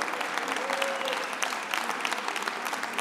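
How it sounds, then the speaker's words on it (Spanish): Audience applause fills the hall at a Más Madrid political party congress, a steady dense clapping from a large crowd that holds at an even level throughout without speech. "Otro aplauso para la buena gente de Getafe"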